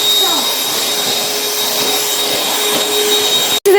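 A cordless, wireless handheld vacuum cleaner runs with a steady, loud whine and strong suction roar for nearly the whole stretch, cutting out briefly just before the end and then resuming.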